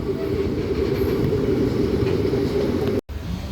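The Garudadri Express rolls into Nagari railway station with a steady, loud rumble and rattle of wheels and carriages, then cuts off briefly near the end before the roar resumes.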